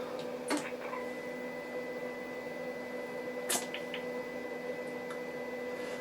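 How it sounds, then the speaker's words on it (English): A CB radio receiver on AM, under repair, puts out a steady pilot tone as a constant hum with a few higher pitched lines, holding evenly throughout with brief faint clicks and no talk. "And we're hearing a pilot tone."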